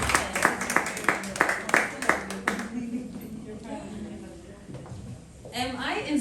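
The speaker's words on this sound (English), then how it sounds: "A round of applause for the doctor." An audience claps for a guest doctor, a burst of rhythmic applause up front that fades out, followed by a person talking.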